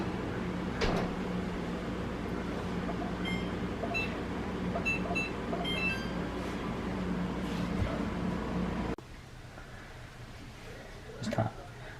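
Kitchen timer on a stove chirps a few quick high beeps in short clusters under steady room noise, followed by cupboard and door clunks in a kitchen.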